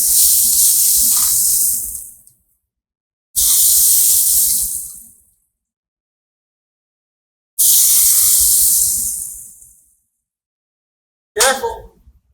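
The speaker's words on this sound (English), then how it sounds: "You hear the sizzle, you see the smoke" Loud hissing sizzle comes in three long bursts that each fade out, then a short crackling spurt at the end.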